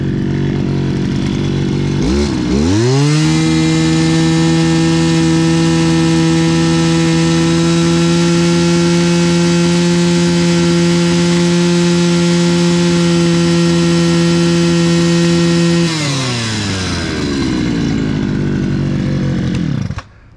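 A motorized brush cutter spinning a long nylon trimmer line revs up sharply to a loud, steady high-pitched whine near 10,300 rpm and holds it, then winds back down to idle, very close and with no talking.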